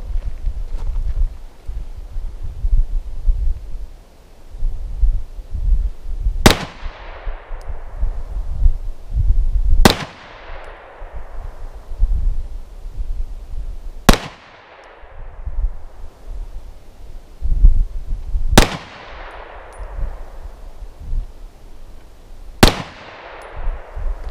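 Five single gunshots from an M&P Compact pistol firing Inceptor 9mm ammunition, each a loud, sharp crack with a trailing echo, spaced several seconds apart over low rumbling background noise.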